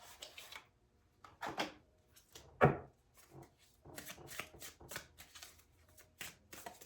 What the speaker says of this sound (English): I'm going to put down a last few Spirit Junkie by Gabriel Bernstein oracle cards just to finish off this message